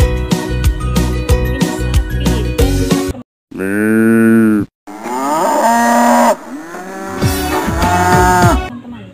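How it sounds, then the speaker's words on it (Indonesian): A cow moos in long, loud, close calls with drawn-out harmonic lowing, broken by short pauses, and busy toy-like sounds around them. "Teman-teman, sapi."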